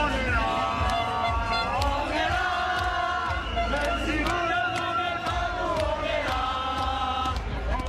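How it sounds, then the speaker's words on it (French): A protest crowd surges down a Paris street, giving a steady dense roar of many voices with shouts and cheers rising out of it, close and loud throughout. "Il est 14h30 lorsque la foule s'élance."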